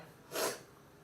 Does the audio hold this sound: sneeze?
yes